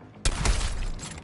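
Gunfire in the video game Suicide Squad: Kill the Justice League, a sudden loud burst of rapid shots with sharp cracks that rings on briefly after a quiet start.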